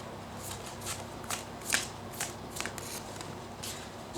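Oracle cards being shuffled by hand, a run of soft riffling flicks in an irregular rhythm, close and fairly quiet.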